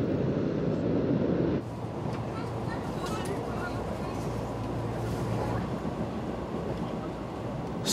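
An old train runs over worn, aging rails on a slow rural line, with a steady broadband rumble and rattle throughout, louder at first and then a continuous clattering drone.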